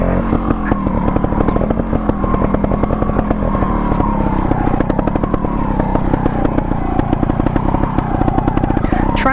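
A lightweight trials motorcycle ridden in Emmett, Idaho, its engine loud and close with a steady, rapid buzzing putter throughout and no talking.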